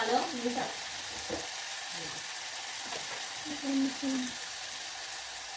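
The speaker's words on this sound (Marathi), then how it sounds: "आपला कांदा तळला जातो आहे" Chopped onion frying in hot oil gives a steady, close sizzling hiss that runs unbroken throughout, with a few faint bubbling pops rising and falling beneath it.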